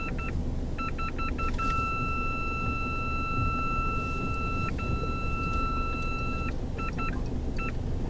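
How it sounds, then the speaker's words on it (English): A Mazda BT-50 bakkie sounds a warning beeper in the cabin: short repeated beeps, then a long steady tone held for several seconds, a second long tone, and a few more short beeps over a low engine and road rumble. "There's a bit of a beeper."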